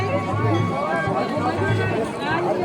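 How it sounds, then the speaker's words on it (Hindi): A dense crowd mills at a Himalayan temple fair, a close babble of many overlapping voices and movement, with one speaker talking prominently above the hubbub. "भाई साहब कितनी भीड़ है।"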